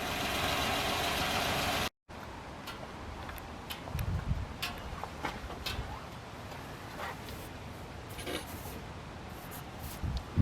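A Toyota Aygo engine idles steadily, close by, while the radiator fan whirs underneath, broken by a brief drop-out and scattered light ticks and clicks.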